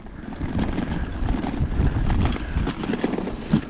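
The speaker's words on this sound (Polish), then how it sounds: "Zresztą cały czas wiatr mi wieje w plecy." Wind rushes steadily during a bike ride along the Baltic coast, buffeting a GoPro microphone with a low rumbling roar that swells and eases throughout, with no talking.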